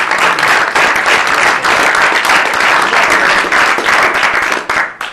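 Sustained audience applause at a White House cabinet meeting, dense and steady clapping from many hands close by, holding for about five seconds before tapering at the end.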